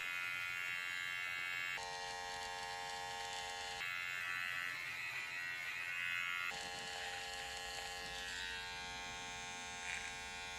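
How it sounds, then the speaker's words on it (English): An electric hair trimmer buzzes steadily during a men's haircut, close and continuous, with its pitch and tone shifting a few times as it presses against the hair, and no voices. "switching to the trimmer"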